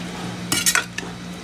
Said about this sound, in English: I'm gonna give everything a toss